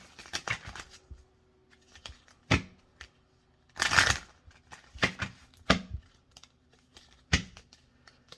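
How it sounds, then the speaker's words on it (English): Tarot cards are shuffled by hand at a table in a series of crisp, riffling and slapping bursts. The bursts come close and fairly loud, separated by short quiet gaps. "that was a horrible shuffle"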